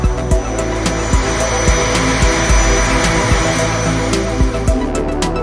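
An A-10 Warthog jet aircraft roars with a loud, steady engine drone and high whine, punctuated by regular low thumps, continuous and close throughout.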